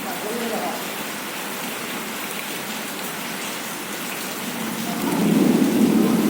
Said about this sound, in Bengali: এই বৃষ্টির দৃশ্য একটি লাইট পোস্টের নিচে দেখেই আপনারা বুঝতে পারছেন কিভাবে বৃষ্টির ধারা বইছে